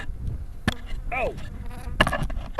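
Honey bees buzz around an opened hive, a close insect hum with a few louder fly-by whines and sharp knocks against it.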